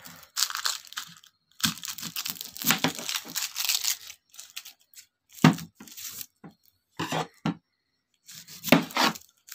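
A single onion being cut with a knife in a home kitchen, giving close, irregular chopping knocks in short bursts separated by brief pauses, with no voices.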